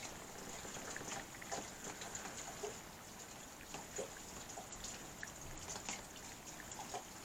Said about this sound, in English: The noise you can hear is the drain going down into the